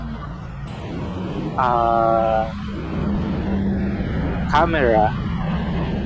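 A Max Queen motorcycle used as a taxi runs with a steady low engine drone and road rumble, picked up by a helmet-mounted action camera. Someone talks over the engine the whole time.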